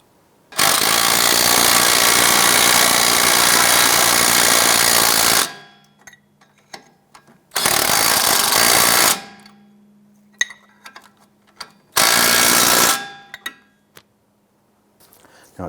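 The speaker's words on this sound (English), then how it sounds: "Now go ahead and install the nuts on the strut bolts. I'll go ahead and snug those down." A power impact tool snugs nuts onto strut bolts on a 2001-2007 Ford Escape: three loud buzzing bursts, a long one then two shorter, separated by quiet gaps with small clinks.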